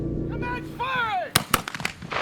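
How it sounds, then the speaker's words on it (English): Rifle volley fire at a historical militaria shoot: a shouted command with harmonic voice, then a sharp ragged crack of several rifles together followed by scattered individual shots and echoing reports. "Commence firing!"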